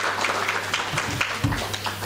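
Conference audience giving a round of applause after a speaker finishes, a soft scattered patter of clapping from a medium-sized room, fairly distant and brief.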